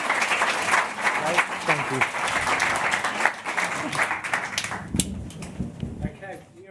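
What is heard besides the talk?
applause for the panelists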